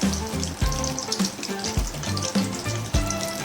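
Pumpkin flower fritters frying in hot oil, a loud close bubbling sizzle that runs continuously, with recurring clicks and low thumps as they are turned in the pan.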